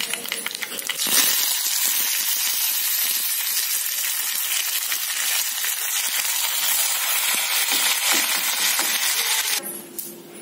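Mustard seeds, cumin and curry leaves sizzle in hot oil for a tempering over Hyderabadi tomato pickle, a loud, steady crackling hiss with popping seeds that starts abruptly and runs continuously before dropping off near the end.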